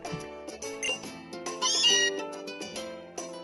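Meowth's cry from the video game Pokémon Sun, a synthesized cat-like meow that rises and wavers over a bright electronic music backdrop, heard clearly alone without talk.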